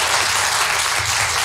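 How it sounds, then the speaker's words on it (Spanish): An audience gives sustained applause at a talk, a dense, even wash of many hands clapping together without pause. "Un aplauso a los rarámuris con mucho cariño."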